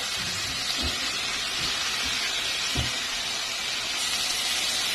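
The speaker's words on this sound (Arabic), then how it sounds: "غادي نخليهم يتشحروا مع بعضياتهم واحد شويه" Grated garlic with coriander and parsley sautéing in a hot pan, a steady broadband sizzle and hiss throughout, with a few soft low knocks, likely the utensil touching the pan.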